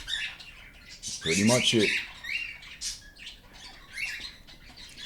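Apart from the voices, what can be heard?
cockatiel chicks squawking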